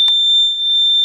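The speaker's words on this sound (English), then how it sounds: "But that's the alarm setting." A carbon monoxide alarm, just fitted with batteries, sounds a loud, steady, high-pitched tone close by. A brief clatter comes at the very start, and no one speaks.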